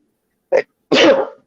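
A single sneeze rings out up close and loud, a short sharp intake followed by the forceful burst.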